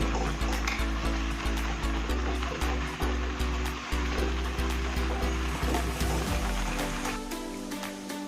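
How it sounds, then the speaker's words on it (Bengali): Sweet sandesh mixture with ghee stirred continuously in a kadai, a steady sizzle with rhythmic scraping strokes of the spoon against the pan, close and alone. "এখানে 1 চামচ ঘি দিয়ে দেব। দিয়ে এবার অনবরত নাড়তে থাকবো।"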